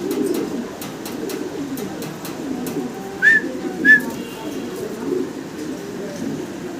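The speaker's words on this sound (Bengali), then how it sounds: "8 ফেদার বয়সে তো এটার ডাক দেখানোর জন্য আরেকটা কবুতর ভাই ছেড়ে দিয়েছেন" A fancy Spanish Granadino pigeon gives low, throaty coos in a steady rolling series, close by, with a couple of brief higher whistling chirps partway through.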